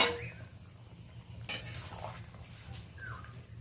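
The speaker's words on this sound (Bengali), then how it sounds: "হালকাভাবে একবার নেড়ে নিলাম।" Light stirring of a mixed five-vegetable curry in a pan, a soft scraping swish with faint clinks of utensil against metal and a low simmering hiss beneath, close and quiet.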